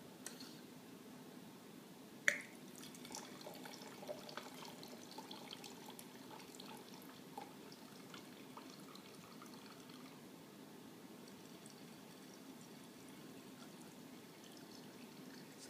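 Wine from a freshly pressurized bottle streams steadily through a Coravin preserver's needle spout, a faint continuous pour with a brief sharp click near the start and low room noise throughout.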